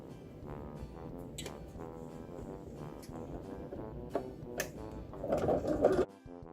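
A sewing machine stitching the sides and bottom of a folded fabric gift bag, a close, steady motor hum with a buzzing, tonal drone, rising in speed and loudness near the end before stopping abruptly.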